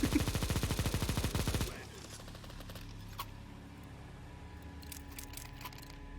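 Rapid machine-gun fire in Counter-Strike 2, a fast even burst of loud shots that stops abruptly, followed by quieter game sounds and faint ticks.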